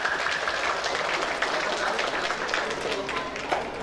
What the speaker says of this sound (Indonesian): Tepuk tangan kembali.